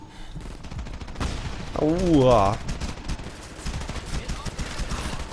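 Gunfire from the war video game Frontlines: Fuel of War: rapid automatic bursts and shots run loud and continuous, with a voice reacting over the shooting.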